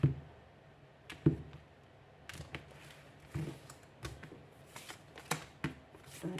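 Green Witch Tarot cards being laid out and handled on a table: sparse, crisp card slaps and flicks at irregular intervals, close and fairly clear, with no talking.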